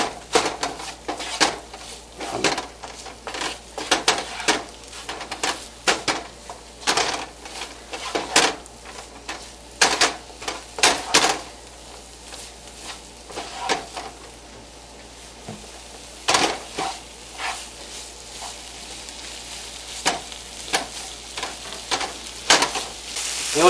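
Rice, peas and potatoes cook together in a pan, giving a steady sizzle broken by frequent sharp clinks and scrapes of stirring, close and fairly loud throughout.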